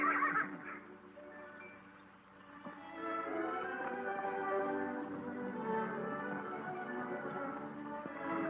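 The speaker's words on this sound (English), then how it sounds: "The most beautiful horses I've ever seen on any ranch." Horses on a ranch whinnying in an old 1936 western film soundtrack, faint drawn-out neighs rising and falling over a thin background.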